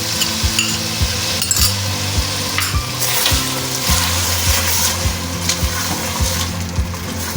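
Meat with yogurt for aloo gosht sizzles steadily in a hot pan, with a spoon scraping and stirring in a regular rhythm against the metal, close up.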